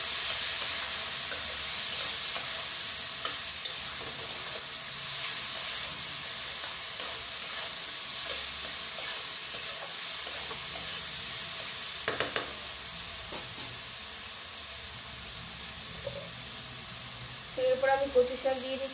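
Turmeric and chili powder fry and are stirred in a pan for a Bengali kochu shak dish, giving a steady soft sizzle throughout with a few scraping knocks of the spoon near the end.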